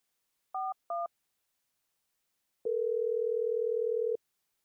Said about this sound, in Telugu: ఒకసారి మూర్తి గారికి ఫోన్ చేద్దాం.